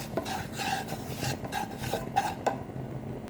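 Powdered pasta ingredients and flour being stirred in a pan, with a steady scraping, rubbing sound and a few light clinks of a utensil against the pan, close and alone.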